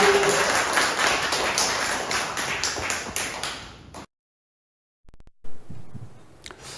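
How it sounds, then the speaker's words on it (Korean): An audience at a Korean public lecture gives a professor a hearty welcoming round of applause, loud and dense for about four seconds before cutting off abruptly into silence, followed by faint room noise and a few scattered sounds. "그 이혜영 교수님 힘찬 박수로 소개합니다"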